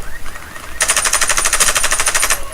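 Sustained automatic machine gun fire in the free-to-play first-person shooter Warface, a loud rapid burst of evenly spaced shots starting abruptly and running about a second and a half before stopping.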